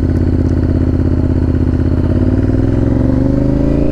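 A motorcycle engine idles loud and close at a broken traffic light, a steady throbbing rumble with a slight rise in pitch toward the end.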